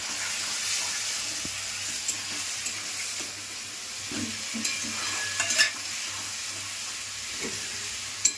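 Mutton cooked with papaya leaves sizzles steadily in a pan while being stirred, a continuous close frying hiss broken by occasional scraping clinks of the spoon, no voices.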